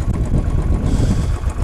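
A Royal Enfield Bullet 500 Classic single-cylinder motorcycle idles after an electric start, a close, loud, low throbbing chug with an uneven pulse and a touch of wind noise.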